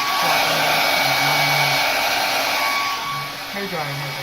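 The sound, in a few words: hair dryer running on cooling setting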